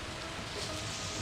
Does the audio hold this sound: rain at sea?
yes